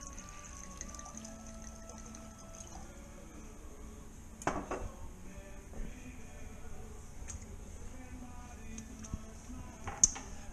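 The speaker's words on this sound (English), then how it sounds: "that's why you gotta keep stirring it, otherwise it will pop at you" Lobster Fra Diablo sauce being stirred in a pot, with soft scraping and clinks of a utensil against the pot, a couple of sharper knocks standing out above a quiet background hum.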